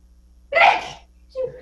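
One sharp, loud sneeze bursts out close by in a quiet county board meeting room, followed a moment later by a brief voice.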